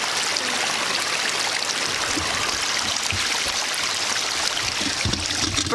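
Water from a newly built pond waterfall rushes and splashes steadily, a loud continuous wash close by, with no talk.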